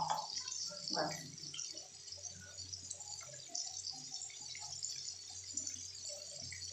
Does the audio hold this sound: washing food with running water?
yes